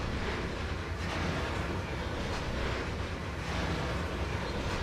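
A long train rolls along in the Trainz 2022 railway simulator, a steady low rumble and rushing noise with no break, moderately loud and without talk.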